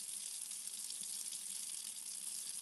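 Warm water runs from a kitchen tap into a cup, a faint steady hiss that continues without a break and has no voices over it.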